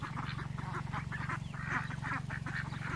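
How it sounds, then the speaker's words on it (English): Khaki Campbell ducks quack rapidly and repeatedly in a busy cluster, fairly close, over a constant low mechanical hum. "See how big those khaki Campbells are? They look like ducks already."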